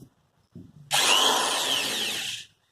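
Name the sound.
electric drill running without a drill bit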